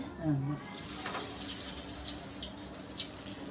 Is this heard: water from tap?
yes